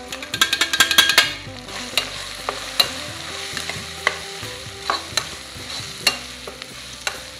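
Ground masala paste with ginger-garlic paste frying in a pan for vegetable pulao, opening with a quick burst of rapid spoon clatter, then intermittent scrapes and taps over a low sizzle.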